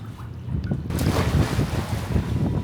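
Steady gusty wind roaring over open water at the seaside in Lomé, Togo, with a broadband rush that swells after a brief quieter start and stays loud throughout.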